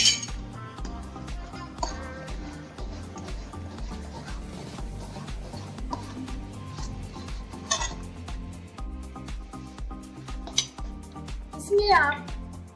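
A spoon stirs pav bhaji in a pan after lemon juice is squeezed in, with scattered metallic clinks and scrapes over background music and a talking voice.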